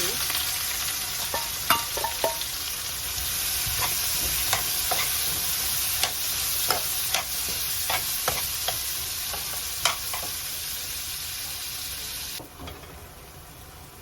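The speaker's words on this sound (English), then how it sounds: "Just going to saute the onions" Onions sautéing in a pan for an eggplant sauce, a steady close sizzle and fry running throughout with occasional sharper crackles and pops, alone with no talking, easing off slightly near the end.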